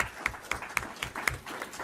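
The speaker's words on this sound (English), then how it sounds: "a round of applause for the panelists" An audience at a panel discussion in Nairobi claps for the panelists, with a few distinct, evenly spaced claps standing out over softer scattered clapping in a short burst.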